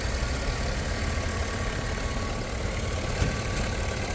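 A 2005 Chevy Suburban Z-71 engine idling steadily, a constant dense rumble with a faint whine, unchanging throughout and heard without any talk.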